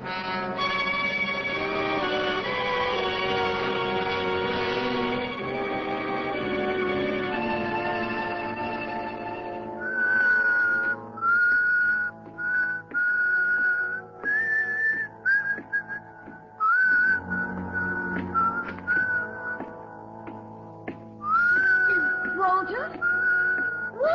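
A man whistles a tune in a vintage suspense radio drama, first over an orchestral music bed, then alone in clear, bright phrases with short pauses between them.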